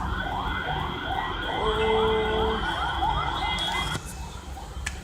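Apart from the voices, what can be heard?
ambulance siren passing near a hospital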